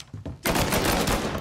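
Video game gunfire in Mafia Definitive Edition: a few quick shots, then a loud, dense rapid burst that runs to the end of the short clip.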